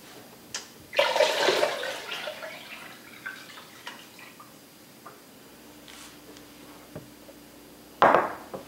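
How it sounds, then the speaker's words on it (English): Water drained off mozzarella curds pours and splashes in a broad gush, trickling and dripping for several seconds, then a second brief splashing burst near the end. "We're ready to drain off this water."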